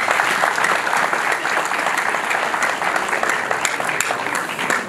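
A crowd at a public gathering in Rubavu applauds in a sustained, dense burst of clapping that stays loud and even throughout, with a faint voice briefly underneath.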